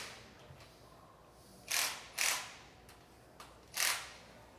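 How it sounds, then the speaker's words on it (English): An impact gun tightens cam caps on a Corvette LT6 engine, firing in three loud, short rattling bursts with a few fainter clicks between, close by and without voices. "we had to turn up the impact gun because there's spring tension there that cam doesn't want to seat down"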